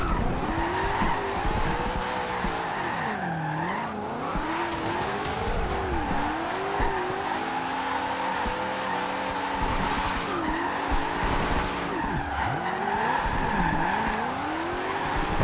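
A 2015 Mustang drifts in Forza Horizon 2 with a rally-suspension build, its tires squealing in long wavering sweeps over a steady engine drone, loud and continuous throughout.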